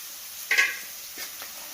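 Onion and green chilli frying with chopped kashi greens in a pan, a soft scrape of stirring and a light sizzle, one brief brighter clatter near the start, then quieter shuffling.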